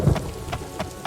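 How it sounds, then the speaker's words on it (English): Rain falling in the Daggerfall video game, a steady wash of drops with faint periodic patters and a low rumble at the start, heard alone with no talk. "It's a rainy day in the tropics."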